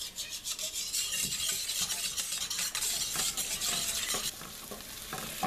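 Onions sizzle and fry steadily in a pan as the base for a gravy, stirred with scraping, rubbing strokes, close and continuous with no talking.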